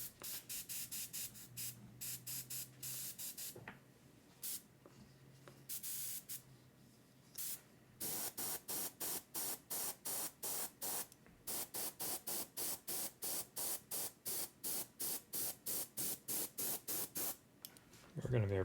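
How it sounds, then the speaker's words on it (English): An airbrush sprays paint onto a model in bursts: a few scattered hisses, then a long run of short, evenly spaced spurts, close and clear with no talking. "We're going to airbrush a lot"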